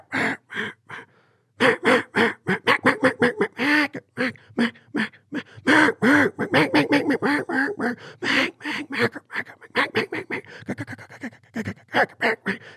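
A man imitates a hen mallard duck call with his voice, a long run of loud, rapid, raspy quacks in choppy bursts close to the microphone, starting after a brief pause.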